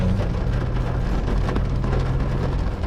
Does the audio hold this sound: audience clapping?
no